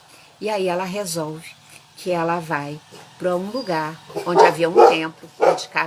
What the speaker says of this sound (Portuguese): desculpem o barulho, são meus cachorros.